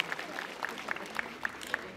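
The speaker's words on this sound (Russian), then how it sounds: "давайте действительно аплодисментами еще раз поблагодарим наших почетных гостей" An audience at a medalists' ball in the Grand Palace at Peterhof gives soft, distant applause, a low wash of clapping with a few sharper individual claps standing out at regular intervals.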